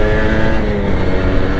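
A Kawasaki Ninja RR two-stroke motorcycle fitted with a GJR Racing exhaust runs loudly close by, a dense, raspy, steady engine roar with no talk.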